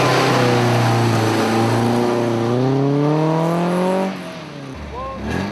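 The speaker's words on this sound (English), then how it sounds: "previous winners Frank Fennell and Kevin Savage start to head out into the first trial of the event" An Alfa rally car revs and pulls away from the starting gantry at the first stage of the Rally of the Tests 2007, the engine climbing loudly through its gears before fading, while a voice talks over it.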